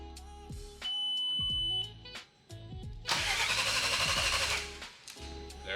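A 2002.5 Volkswagen GTI with a 6-speed and VR6 engine being cranked over in a garage, the starter churning in short rhythmic bursts with a steady electronic chime, then a longer harsh grinding crank without catching.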